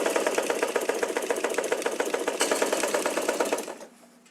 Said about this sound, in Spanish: Por todo el borde, con cuidado, con calma. Y vamos pasando esa costura.